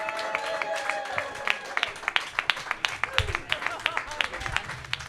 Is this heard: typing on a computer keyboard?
no